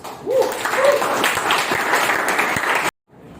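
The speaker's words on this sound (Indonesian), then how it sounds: "Silakan berikan aplaus." Applause from a classroom after a group presentation, a burst of many hands clapping together for about three seconds, fairly loud and close, with a few brief vocal sounds near the start before it stops abruptly.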